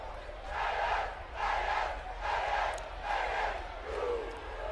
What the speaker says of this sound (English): the boos ensue from the homecoming crowd of Jackson State